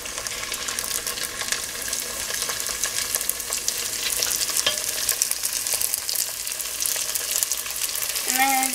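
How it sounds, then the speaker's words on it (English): Apple wontons fry in hot oil with a loud, steady sizzle and crackle up close, and a voice cuts in briefly at the very end. "So now I'm gonna try to fry the next 2."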